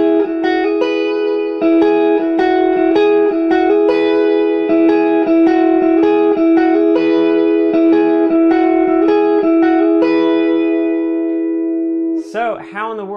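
Electric guitar plays the signature lick of a song, a repeating pattern of clean, bright ringing notes with reverb, loud and close, ending in a brief swooping effect.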